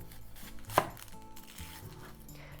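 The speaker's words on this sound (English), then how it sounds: "Let's cut the onion first." A knife chops once through an onion on a cutting board, one sharp close knock near the start, with quiet kitchen background afterward.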